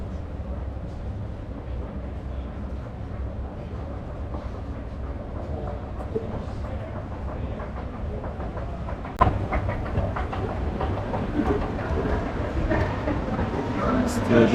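Train at the 's-Hertogenbosch railway station in the Netherlands on a rainy, windy day: a low steady rumble of rolling stock with wind and rain noise, a sudden clatter near the end, and a voice talking over it.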